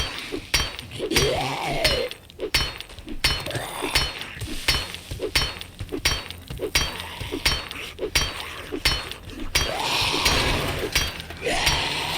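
An axe hits a door over and over in the video game 7 Days to Die, giving sharp, clattering impacts with splintering and clinking debris at a steady, rapid pace, close and loud throughout.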